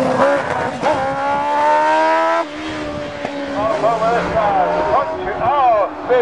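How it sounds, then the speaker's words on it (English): Bubble car racing at a reservoir speed event: a small engine revving and whining through rising and falling pitches, close and loud, with a commentator's voice talking over it. "Excellent bubble car"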